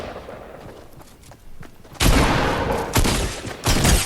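Gunfire from the video game Fortnite, several loud bursts of shots in its second half after a quieter stretch, with sharp attacks and some echoing tail.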